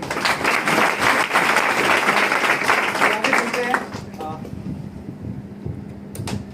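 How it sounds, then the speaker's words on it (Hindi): Loud applause from a crowd fills the first few seconds, then fades into a quieter room with scattered lingering claps. "मैं चाहूंगा एक बार दोबारा से जोरदार तालियां।"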